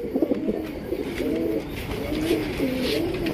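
A pair of pigeons, a male and a female, coo steadily in soft, rolling throaty phrases that repeat close by for the whole stretch, with faint background hiss and no talking.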